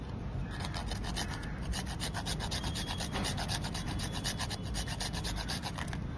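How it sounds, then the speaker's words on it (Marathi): Whole nutmeg being grated over a dried-coconut modak filling gives a soft, rapid rasping, a steady run of quick scraping strokes heard close and quiet, with no talk. "थोडस आपण ह्याच्यामध्ये जायफळ आहे ना थोडस आपण किसून घालणार आहोत"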